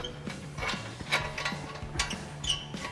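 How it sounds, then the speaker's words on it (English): A nut is run onto a strut assembly on a 2011–2014 Ford Mustang, producing quiet, quick metallic ratcheting clicks in an uneven rhythm, close by and without talk. "I'm gonna start our 2 21mm nuts here"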